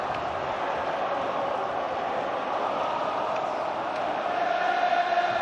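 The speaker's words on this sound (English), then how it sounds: "as the crowd empties" A large football crowd at Anfield murmurs and roars in a broad, distant wash after Atletico Madrid's win over Liverpool, steady throughout with no clear chants.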